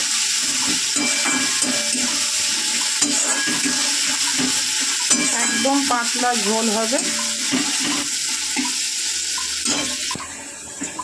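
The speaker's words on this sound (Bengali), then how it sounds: "পেঁয়াজ মোটামুটি কিন্তু ভাজা হয়ে গেছে" Steady sizzling and crackling of onions frying in a pan, with a person talking briefly over the cooking noise.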